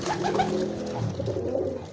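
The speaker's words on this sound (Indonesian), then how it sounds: "Sama halnya yang kayak ini nih, merpati yang masih muda" Young pigeon cooing in courtship, a couple of soft, throaty rolling coos close by over faint background noise.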